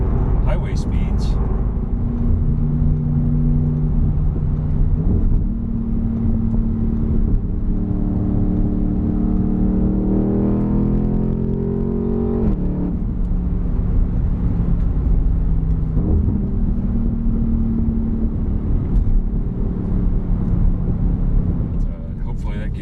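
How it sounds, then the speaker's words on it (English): A 2021 Audi C8 RS6 Avant with an AWE SwitchPath exhaust accelerates hard up a highway on-ramp. A deep, loud engine drone climbs through the gears for more than twenty seconds, heard from inside the car over steady road roar. "Hopefully that gives you a good example of what the sound is like on this exhaust."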